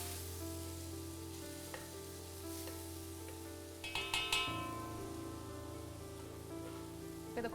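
Raw shallots and ginger garlic paste sautéing in a pan for chicken biryani, a steady close sizzle and frying crackle with a few louder stirring scrapes and spatters midway.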